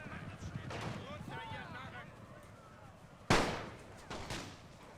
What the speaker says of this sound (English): Firing off a couple of token shots.